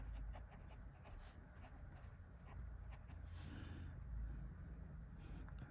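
A TWSBI Diamond 580 fountain pen with a medium nib, inked with Diamine Iceberg, writes on paper with faint, soft scratching strokes against quiet room noise.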